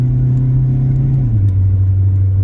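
A 2003 Toyota Corolla engine pulls steadily under acceleration, a loud, close, continuous hum whose pitch shifts midway as it gears down or changes load, with no talk over it.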